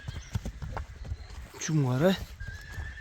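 A young black Kyrgyz colt, offered for sale, gives one clear rising-and-falling whinny near the middle, while hooves clop softly and someone speaks close by.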